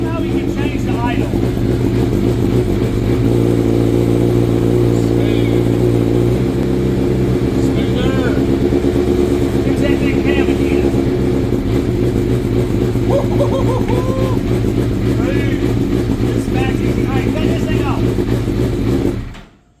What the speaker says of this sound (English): Show him how we can change the idle.